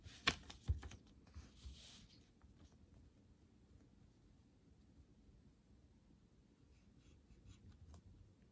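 A fountain pen scratches across paper in a quick handwriting sample made with homemade ink mixed from spare cartridges, faint and close, with a few louder taps at the start followed by soft continuous strokes.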